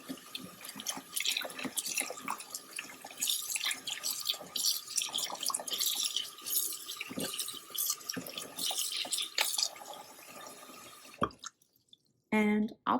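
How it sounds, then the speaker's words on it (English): Warm soapy water runs and splashes into a basin for soaking woven mug mats, a steady close faucet stream with drips, then a few louder sloshes near the end. "here I'm just making a batch of warm soapy water to really kind of soak those in"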